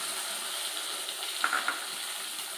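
Eggs frying in a pan with wilted moringa leaves, a steady close sizzle throughout with a few brief clinks of a utensil near the middle, no voices.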